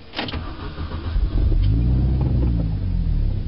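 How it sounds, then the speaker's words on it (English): A manual-transmission car engine stalling as the clutch is let out in first gear: a loud, steady low rumble that swells and holds, with no talk over it. "And it made the engine stop because the wheels aren't moving."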